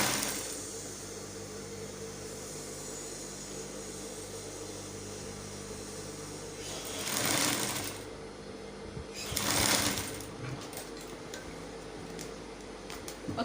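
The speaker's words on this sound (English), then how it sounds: "use 1/2 inch as well and sew it to the other end" Sewing machine stitching a sleeve seam, a faint steady mechanical whir with two louder bursts of fast stitching partway through.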